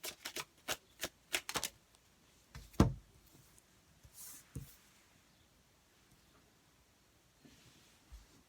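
Tarot cards being drawn and shuffled, heard as a quick series of crisp card snaps followed by a louder slap and a few soft shuffles, close and quiet, with no voices.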